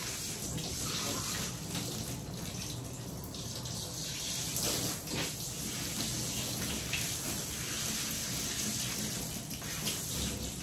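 Water runs steadily from a tap into a grooming tub while a Havanese dog is bathed in a salon, a continuous close splashing gush with slight shifts in spray, no talk.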